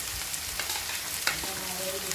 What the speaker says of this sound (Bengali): আমি গ্যাসটাকে হাই ফ্লেমে রেখে চিকেনটাকে একটু ভাজা ভাজা করে নেব পেঁয়াজের সাথে।